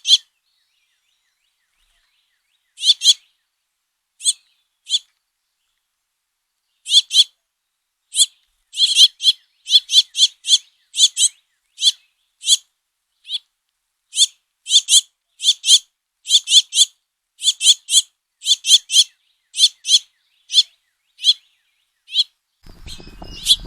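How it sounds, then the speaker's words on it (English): House finch calls as a father feeds at least four fledglings, short bright chirps in scattered bursts and quick clusters against silence, with a faint rustle at the end. "I love the sweet calls of the endearing house finches."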